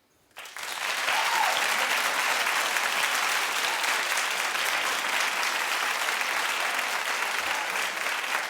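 Studio co-hosts and audience break into sustained applause on a TV talk show, a loud, dense burst of clapping that starts abruptly and holds steady throughout.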